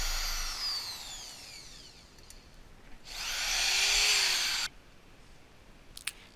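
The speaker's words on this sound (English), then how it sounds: "Now I'm putting the 3/16 inch bit through to get my second hole." A power drill whirs in short bursts, driving a 3/16 inch bit through a sailboat part, spinning up and cutting for a second or two at a time, close and fairly loud with quiet gaps.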